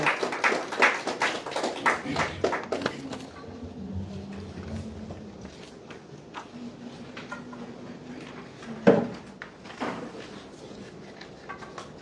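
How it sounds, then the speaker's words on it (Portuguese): An audience at a book launch applauds, a burst of close clapping that fades after a few seconds into room murmur, footsteps and a couple of thuds. "Uma salva de palmas para a nossa intérprete."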